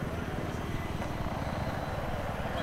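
Steady broadband rotor and engine roar of a Viper attack helicopter in flight in the video game Battlefield 3, loud and constant throughout with a faint background hum and no clear speech.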